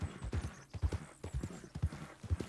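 Horse hooves clip-clop at a walking pace in the video game Red Dead Redemption 2, a steady rhythmic plod heard quietly over a soft ambient background with no talking.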